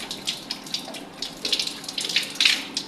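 Tap water runs and splashes in uneven gushes during wudu ablution washing, close and moderately loud, with intermittent bursts as hands cup and pour the water.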